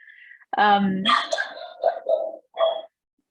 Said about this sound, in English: I hope she quiets down. That's my little pandemic puppy.